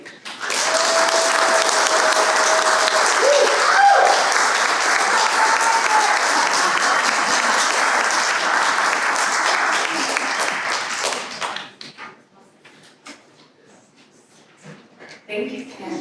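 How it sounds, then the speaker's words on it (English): Loud, dense audience applause follows a talk, sustained for about eleven seconds before thinning out to scattered claps and murmurs. "Yeah, just applaud."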